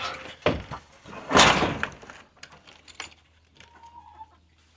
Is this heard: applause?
no